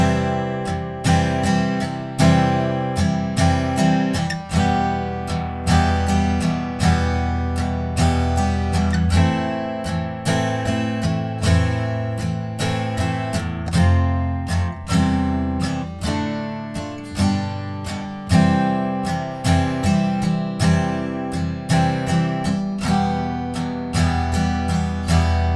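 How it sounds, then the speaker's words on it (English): Steel-string guitar strummed steadily through the full chord progression of a pop song, rhythmic bright strokes repeating evenly, close and alone with no voice. "the full chord progression that you can just play throughout the whole song will sound like this"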